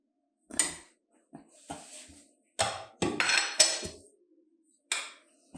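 Green chillies dropped into a frying pan with ghee, giving several separate clattering knocks and scrapes of metal cookware, fairly close, with short silent gaps between bursts.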